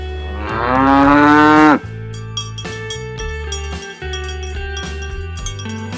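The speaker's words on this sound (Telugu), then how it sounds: "ఆవు." A cow moos once, loud and close, with a long drawn-out call over a steady music bed that carries on alone after the moo ends.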